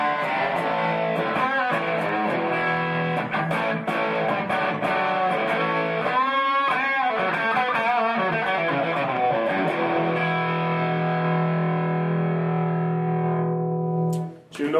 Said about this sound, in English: And now with the Dark Matter Distortion on.